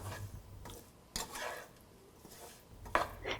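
Boiled beetroot is stirred and sautéed in a pan over medium-low heat, with soft scattered scrapes and clinks of a spoon against the pan over a faint sizzle, fairly quiet overall.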